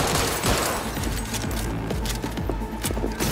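Rapid shotgun blasts in a video game, loud, dense bursts stacked over a continuous roar of combat with no gaps between shots.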